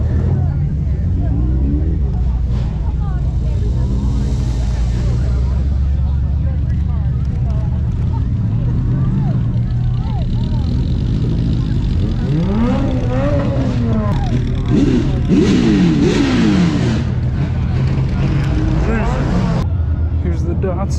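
Car engine revving at a car meet, loud throaty bursts of revving rising and falling over a constant idle rumble, with crowd chatter and nearby talking throughout.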